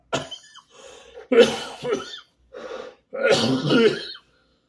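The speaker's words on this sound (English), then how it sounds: "Had to pause for the cough." Several harsh coughs come in uneven bursts close to the listener, with throat clearing and short pauses between them.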